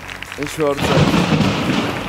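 Musicians at a gala show imitate a thunderclap, a brief voice giving way to a loud, sustained rumbling roar that fills the rest of the moment.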